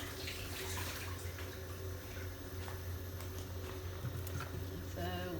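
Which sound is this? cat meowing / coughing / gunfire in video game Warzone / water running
water running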